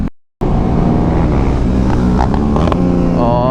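KTM 390 Duke motorcycle on a race track, engine droning loud and close with shifting revs and heavy wind buffeting, after a brief cut at the start.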